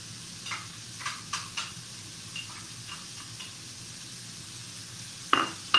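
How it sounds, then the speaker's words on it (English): Minced garlic hits a pan of onions and apples, giving a low sizzle under a few light clatters of utensil on pan, then a sharp clank near the end and no voices. "I'm going to add in that garlic that I chopped up, that I minced."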